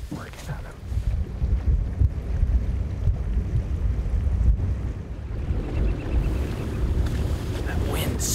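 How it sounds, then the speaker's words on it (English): Wind blowing across a bay in Alaska during a boat drift on a bear hunt, a steady broad rushing roar with buffeting gusts on the microphone, loud and continuous throughout, with some water and boat noise mixed in. "That wind sucks."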